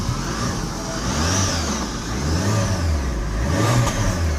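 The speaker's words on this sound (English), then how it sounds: "The engine sounds really nice." A car engine, on a 1007 Sport Auto, idling and revving in repeated swells, close and fairly loud with no talking over it.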